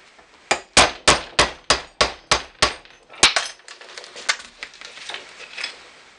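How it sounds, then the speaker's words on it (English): Hammer strikes driving a hinge pin into the lower door hinge of a 1967 Mustang: about nine sharp, evenly spaced metallic blows, followed by a run of quicker, lighter taps. "I'm going to just to continue to hammer that until that pin head is set all the way down"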